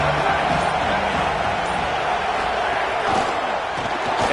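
A stadium crowd roars loud and unbroken in the football game Madden, a dense wall of cheering noise that holds steady for the whole stretch.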